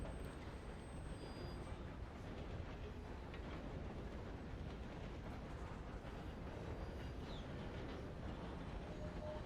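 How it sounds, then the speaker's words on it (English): Riding aboard a moving train in the Red Dead Redemption 2 video game, a continuous low rumble and rolling rail noise carry on steadily and fairly quietly throughout, without voices. "sit on the train and just ride around the train for, like, hours on end"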